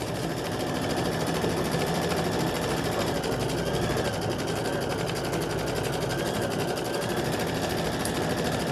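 Home sewing machine stitching a Lori Holt Home Town Sunflower House quilt block, running as a steady, continuous mechanical hum with rapid needle chatter, close and even throughout without pauses.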